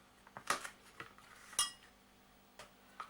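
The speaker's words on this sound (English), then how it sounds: "then you chop them up." A knife chops topped-and-tailed vegetables on a kitchen board, giving a handful of faint, irregular knocks with light clinking between quiet pauses.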